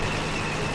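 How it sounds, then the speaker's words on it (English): Tank engines rumble in the Call of Duty Xbox 360 port of the original game, a steady, dense roar of low mechanical noise that holds at an even loudness without any break. "Sounds like tanks."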